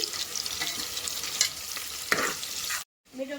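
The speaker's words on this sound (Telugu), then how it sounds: "ఆనియన్స్ అవి దీనిలో వేసుకోవాలి ఇది గోల్డెన్ బ్రౌన్ కలర్ వచ్చేంత వరకు ఫ్రై చేసుకోవాలి" Chopped onions fry in hot oil for mutton curry, a dense close sizzle with occasional stirring scrapes, breaking off into brief silence before a softer sound returns.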